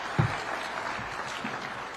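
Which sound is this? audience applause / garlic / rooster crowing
audience applause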